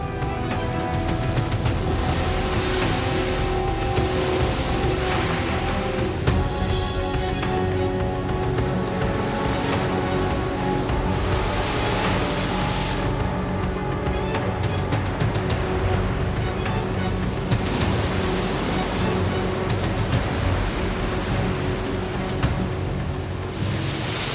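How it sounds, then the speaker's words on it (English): Rough Atlantic seas along the Moroccan coast roar in a dense, unbroken wash of surf and wind for the whole stretch, loud and close with no talking. "The Moroccan coast is notorious for its rough seas."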